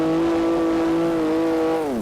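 A four-wheel-drive car built in Garry's Mod drives with a steady, loud droning engine tone that holds even, then drops in pitch and winds down near the end.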